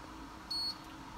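A single short electronic beep from a Fluke 9210 calibration instrument, high and clear, sounds once against a faint background hum.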